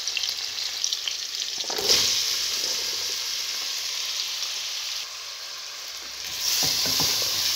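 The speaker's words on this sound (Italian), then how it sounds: "Amalgamo il tutto e faccio rosolare per 2 minutini" Zucchini sautéing with onion and pancetta in a pan, a loud, close, continuous sizzle with a couple of brief stirring scrapes.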